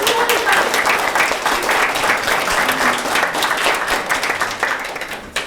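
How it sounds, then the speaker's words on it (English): Sustained audience applause fills a convention panel room, many hands clapping densely and steadily for several seconds before tapering slightly at the end, with faint voices mixed in. "Hey, applause."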